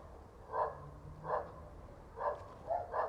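Dogs barking somewhere off at a distance, five separate muffled barks coming at irregular intervals over a quiet background, no voices.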